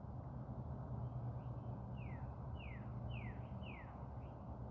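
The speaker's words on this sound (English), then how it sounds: "What them birds talking about?" Birds call outdoors in a repeating series of four or five sharp descending chirps, spaced about half a second apart, over a steady low rumble of background noise.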